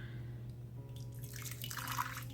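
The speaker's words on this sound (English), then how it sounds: "Got my water hot, and I'm going to pour out a cup." Hot water is poured close by into a cup, a short gurgling splash building over a second or so above a low steady hum.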